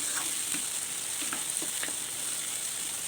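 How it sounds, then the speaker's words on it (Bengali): Onion paste frying in a pan over medium heat for a chicken roast gravy, giving a steady broadband sizzle with faint stirring clicks, alone without talk. "2-3 মিনিট পেঁয়াজ বাটাটা একটু ভেজে নেব, তাতে পেঁয়াজের কাঁচা গন্ধটা চলে যাবে।"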